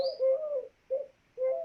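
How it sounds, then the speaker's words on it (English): Eurasian collared dove cooing in a played recording: three soft hooting coos, the first longest, separated by short pauses, fairly clear with no talk. "It's actually the Eurasian colored dove."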